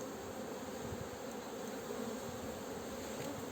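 Steady, dense buzzing of many honeybees at a hive, close and continuous throughout, with no voices.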